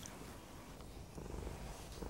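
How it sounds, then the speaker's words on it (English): Domestic cat purring close up, a steady low rumbling purr that swells slightly with each breath, quiet and alone. "When Hercules here purrs, he makes it sound very different from meowing"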